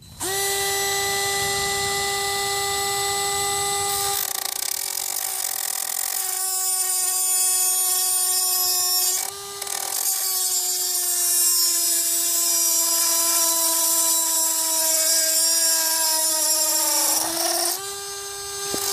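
A 12V ToolPro cordless rotary tool cutting thick steel, a loud high-pitched steady whine with the pitch dropping slightly under load, briefly interrupted once and again near the end.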